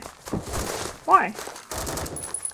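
SCAR-H rifle fire in Roblox Phantom Forces comes as short rapid bursts of game gunfire mixed with a voice talking over it.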